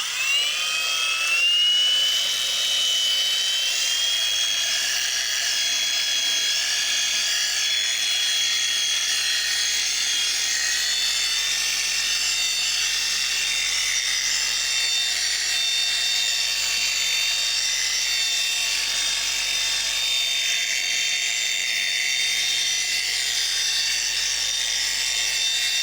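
Steady high-pitched electric whine of a polisher fitted with a waffle pad, run at low speed over the curved face of a car wheel, continuous and fairly close for the whole stretch, with no talking.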